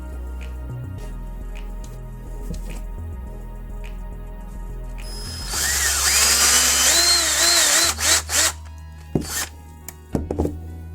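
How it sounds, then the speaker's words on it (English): A power drill whirs up loudly after a few seconds of low rumbling, drilling into a small die-cast toy vehicle, then cuts in and out in short bursts near the end. "you just need to drill that out"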